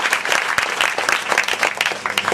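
Clapping from a church congregation fills the space, many hands striking at once in a rapid, busy rhythm that stays loud and near throughout.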